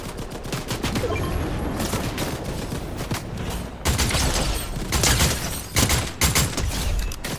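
Rapid gunfire bursts in the Fortnite video game, with dense, loud volleys of shots coming in clusters and fast rattling sequences, close and continuous across the whole stretch without speech.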